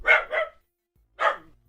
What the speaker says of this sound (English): Hopefully you guys can't hear my dog barking.